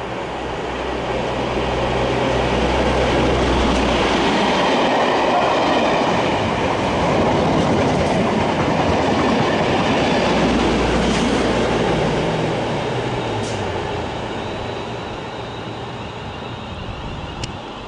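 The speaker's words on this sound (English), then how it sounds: "there's a network rail train about to pass platform 3 from Hither Green to Derby" A Network Rail test train rolls steadily past a platform at Milton Keynes Central station at close range, a loud continuous rumble with rhythmic wheel clatter over the rails, fading slightly toward the end.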